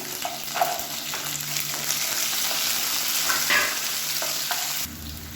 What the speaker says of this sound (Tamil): வெங்காயம் பூண்டு நல்லா வதங்கிருச்சு.